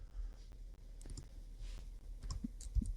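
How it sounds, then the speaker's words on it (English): A computer mouse clicked during a short-term rental property sync: a few sparse, quiet clicks over a low steady hum. "click to sync"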